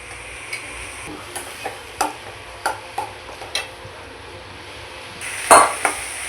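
Brinjal curry with grated coconut being stirred in a pan, a spatula tapping and scraping the metal in a series of distinct knocks, ending with a louder scrape over a faint background sizzle.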